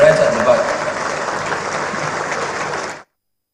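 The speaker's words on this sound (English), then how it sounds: "They can also stand for a small clap." Audience applause at the live commissioning of the Dangote refinery, a dense wash of clapping with some talk mixed in, steady for about three seconds and then cutting off abruptly.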